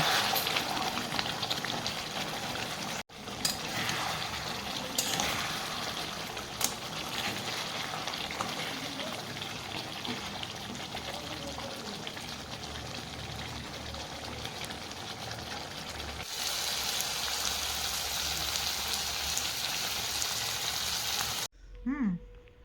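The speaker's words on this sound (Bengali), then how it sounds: "এখন আমি মাংসটা কড়াইতে দিয়েছি এরকম ঝোল ঝোল হয়েছে তো এই ঝোলটাকে প্রথমে ভালোভাবে শুকিয়ে নেব" Goat meat curry simmering and frying in a wok, its juices being cooked down, giving a steady close sizzle and bubbling that runs throughout before cutting off abruptly at the end.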